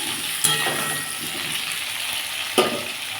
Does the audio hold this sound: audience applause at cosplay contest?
no